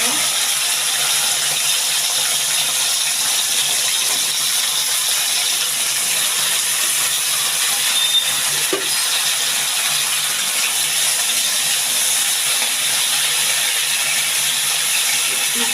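Okra frying in hot oil in a wok, with onion, garlic, ginger and spices: a steady, even sizzling hiss fills the whole stretch at close range, with a faint clink near the middle and no one talking.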